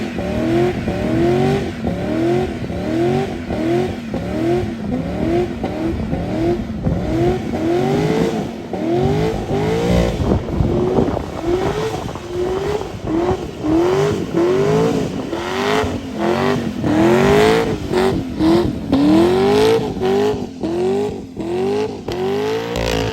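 An engine revs hard and continuously in a rhythmic, pulsing roar with tires spinning in a car burnout at a wedding, loud and close, lasting throughout.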